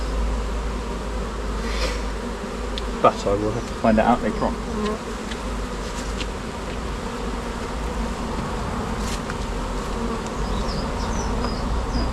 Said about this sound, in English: I'm loath to spray these bees with anything that's strong